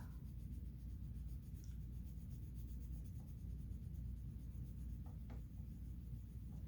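A pen scratches off a number on a paper savings chart, producing faint, dry rubbing strokes over a steady low background hum, with no talk.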